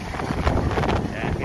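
Strong gusting wind buffets a microphone at Crosswinds, Tagaytay, a dense rushing roar throughout.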